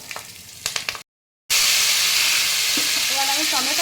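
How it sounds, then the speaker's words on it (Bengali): Tomato sizzles in hot mustard oil tempered with nigella seeds and green chillies for a fish curry, a loud, dense, steady hiss close by after a brief cut, with a voice faintly heard near the end. "এবার আমি টমেটো দিয়ে দিলাম, টমেটোটা একটু ভাজা ভাজা করে নিচ্ছি।"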